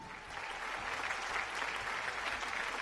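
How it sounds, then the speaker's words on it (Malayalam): Audience applause swells into a steady, dense wash of many hands clapping at moderate distance, holding level for a few seconds with no voices over it. "നല്ലൊരു കയ്യടി."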